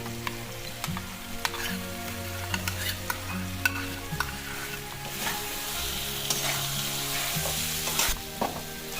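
Ginger, garlic and mustard paste frying in a pan for olive pickle, a loud steady sizzle with frequent clacking stirs of a spoon, alone without talk.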